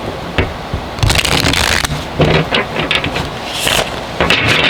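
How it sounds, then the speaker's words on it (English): Tarot card deck shuffled by hand in repeated rapid riffling bursts, close and crisp, with soft rustles and taps between shuffles and no talking. "Let me do one more shuffle"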